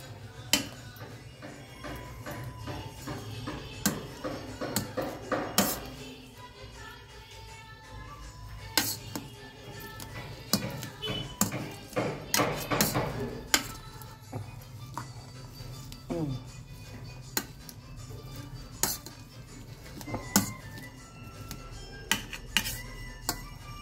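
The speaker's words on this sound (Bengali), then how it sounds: "এটাকে এবার যে ম্যাশড আছে এটা দিয়ে ম্যাশড করবো" Boiled green peas being mashed with a masher in a pot, repeated irregular thuds and metallic clinks of the tool against the vessel, with a voice speaking intermittently over the work.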